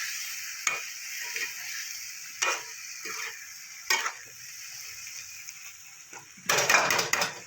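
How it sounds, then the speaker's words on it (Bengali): Potatoes being sautéed with cumin powder and Kashmiri chilli powder in a pan, soft background sizzle broken by sharp scraping stirs, with a louder burst of frying near the end. "দিয়ে ভালো করে আমি এটা মশলার সাথে আলুটাকে ভালো করে কষিয়ে নেব"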